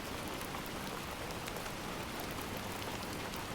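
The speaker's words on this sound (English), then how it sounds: "The rhythmic pitter-patter of the raindrops against the glass helped calm his racing thoughts" Steady rain patters against window glass in a dense, even hiss with scattered sharper drop ticks, constant and close throughout with no voices.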